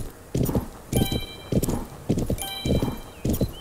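Horse hooves clip-clop in a steady walking rhythm, six evenly spaced pairs of hoof strikes, close and clear, in a horse riding video game set on a ride, with faint chiming game tones over the steps.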